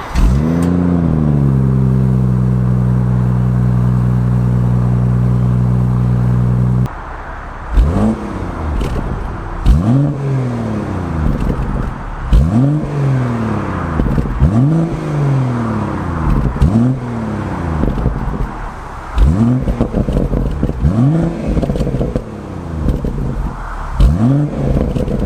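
A BMW M140i on its stock exhaust idles steadily at close range, then revs sharply again and again, each climb and fall repeating in a regular rhythm, loud and with no voices.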